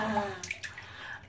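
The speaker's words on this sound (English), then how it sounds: "Splish, splash, I was taking a bath." A baby splashes in bath water while sharing a bath with another child, giving a short burst of wet sloshing and a few drip-like splashes that fade within a second.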